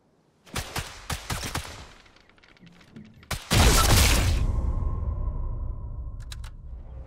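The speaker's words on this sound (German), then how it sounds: "Das war ein heftiger Schuss" Several sharp gunshot cracks ring out in quick succession in the game Sniper Elite 5, then a louder rifle blast follows and decays into a lingering rumble and hum.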